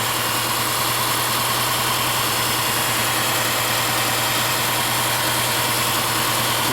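A Subaru engine idles high, a steady, loud, continuous mechanical hum and drone with no talk over it.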